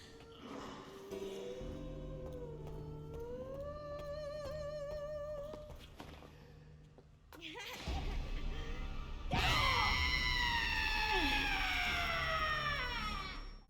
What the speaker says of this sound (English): if they spot you, they will let you know, along with other zombies around with that scream of theirs.